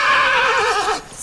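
A single loud, drawn-out horse whinny from the Roblox game Ecos La Brea, wavering in pitch and trailing off near the end.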